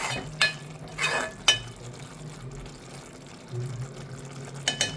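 Mushroom masala bhaji simmers in a pan in its own released water with none added, giving soft bubbling with a few sharp stirring clinks and scrapes, close and moderately quiet.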